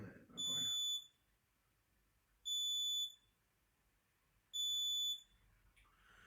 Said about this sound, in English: So there's my CO2 alert still going off, you see.